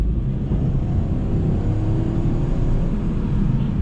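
Citroen C3 with a 1.2 PureTech turbo petrol engine accelerating on the road, a steady, loud low engine drone with a faintly rising tone and constant road rumble throughout.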